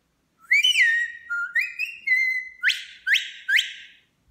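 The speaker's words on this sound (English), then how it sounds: "I'm going to show you how to use this whistle" A loud, shrill Logan sheepdog whistle held against the tongue is blown in a series of sharp notes: first sliding, wavering tones, then three short rising blasts, with no talking.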